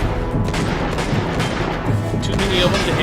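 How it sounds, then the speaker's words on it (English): Gunfire from blind shooting out of cover in Uncharted: Golden Abyss, a dense, continuous burst of rapid shots and booms, loud and close, with a voice speaking over it. "Too many of them to handle without getting shot? Use blind fire"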